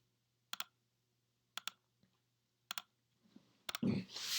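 A computer mouse gives sharp, close clicks, each a quick double click, spaced about a second apart and repeated four times in a quiet room. A soft voice begins at the end.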